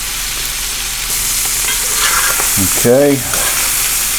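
Chicken hearts fry and are stirred around in a pan with a steady, close sizzle and soft scraping, while a voice speaks briefly over the cooking.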